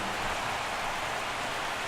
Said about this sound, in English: the rain's coming down pretty good here at Fenway Park in Boston.